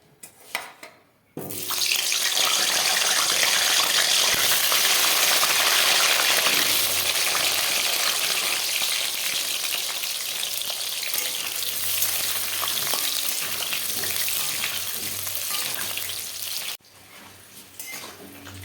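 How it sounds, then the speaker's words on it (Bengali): Potatoes sizzle loudly in hot oil in a wok, a steady, dense hiss that starts abruptly after a quiet moment and runs near and continuous before cutting off near the end. "তো চলো এখন আমি আলুগুলো ভেজে নেবো।"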